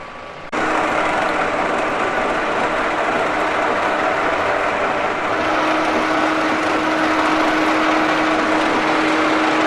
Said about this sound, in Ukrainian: Так, стружечка ламає з двох сторін, рівномірно, сверло трохи скаче.